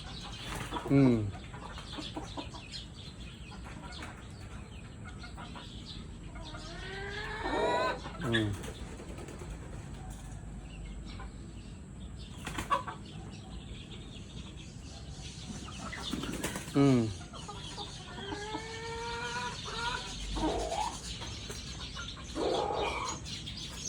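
In a backyard with chickens, a bird takes off and flaps its wings amid clucking and crowing fowl, with brief bursts of wingbeats and calls spread across the scene and occasional voices in the background.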